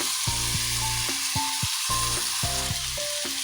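Garlic and ginger fry in hot oil for a sardine curry with a steady sizzle, while sustained tonal tones play over the frying, which never stops.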